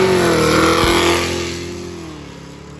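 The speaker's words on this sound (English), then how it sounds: "we have our street tire up, couple Corvettes" Corvette C6s on street tires launch in a street-tire drag race, engines roaring loudly at full throttle near the start, then the sound fades and drops in pitch as the cars pull away down the strip.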